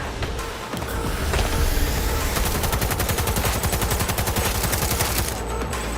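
An LMG light machine gun fires in long sustained bursts in the video game Cyberpunk 2077, rapid evenly spaced shots hammering loudly and close for several seconds before cutting off.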